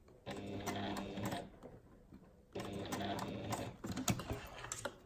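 A sewing machine with a sturdy needle stitches rolled bag handles, running in two fast rattling bursts with a short pause between, close and steady, ending in a few uneven taps.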